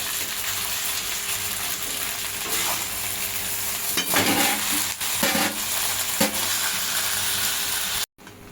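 Boiled noodles go into a hot pan for veg noodles and are stir-fried, giving a steady close sizzle with scraping stirring strokes in the middle, cutting off abruptly near the end.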